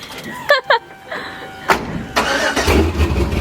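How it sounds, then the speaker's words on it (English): A car engine cranks and catches close by, then settles into a low, steady idle after a brief spoken voice at the start. "I'm gonna move the car right now"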